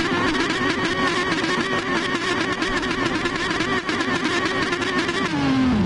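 Several race car engines rev together at the starting grid of a PS4 racing game, a loud, steady, sustained roar with one engine's pitch dropping near the end.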